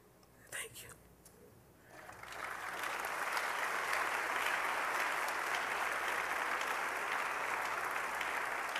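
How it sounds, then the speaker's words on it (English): Sustained applause from a crowd swells in after a brief moment of talk, then holds steady and full. "Y'all can clap better than that"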